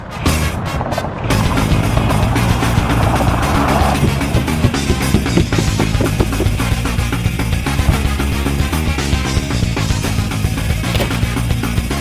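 A Verreal V1S electric skateboard rolls over road pavement with a loud, continuous rumble and rattle of wheels, starting after a brief noisy opening and staying close and steady.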